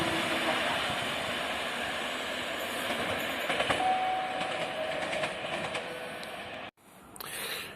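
A Regio Słupia regional train rolls into Szczecin Dąbie station with a sustained rumble and faint clicking of wheels, then the sound cuts sharply near the end.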